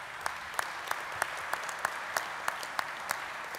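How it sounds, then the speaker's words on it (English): An audience in a hall claps steadily, with the applause fairly soft and distant and a few sharper individual claps standing out at a regular pace. "Please give them a round of applause because they're in the hall."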